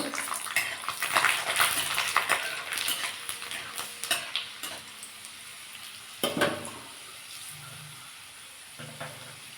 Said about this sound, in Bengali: এই কড়াতে এই তেলের মধ্যে আমি একটু কালো জিরে দেবো একটু রসুন দেবো